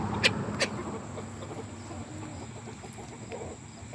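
Ducks in a garden among hydrangeas give two short, sharp calls at the start, followed by a quiet, low outdoor background.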